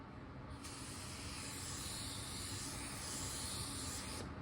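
Close, steady hiss of an automotive paint spray gun laying a wide-fan blend coat of reduced color at low pressure, starting abruptly and running continuously for about four seconds before cutting off.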